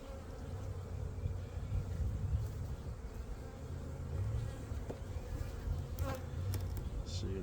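Honey bees buzz steadily and close around gloved hands during a spring hive inspection, a continuous swarming drone with a few louder passes near the microphone.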